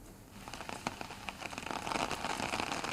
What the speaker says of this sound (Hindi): शुक्रवार रात से जो बारिश है वो शुरू हो चुकी है और अभी भी लगातार जारी है